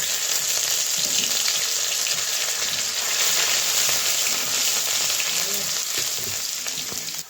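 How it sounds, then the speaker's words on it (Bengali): Ginger goes into hot oil already crackling with bay leaf, dried chili and five-spice tempering for a taro-leaf dish, making a loud, close, continuous sizzle and spitting that runs throughout with only light stirring. "ফোড়নটা কড়া হয়েছে, তো দিয়ে দিব এখন আদা"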